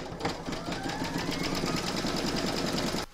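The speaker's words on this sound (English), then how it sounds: "Pop your hoop back into your machine and stitch round number 16 to secure it" An embroidery machine stitches a courthouse-steps log cabin quilt block coaster in the hoop with a fast, even, continuous mechanical chatter that cuts off sharply near the end.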